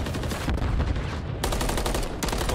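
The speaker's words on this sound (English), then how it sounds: "he'll get a burst into him with the pistol" Rapid pistol fire in Call of Duty during a competitive CDL 2024 match, loud dense bursts of shots packed close together with brief breaks, heard up close and without talk.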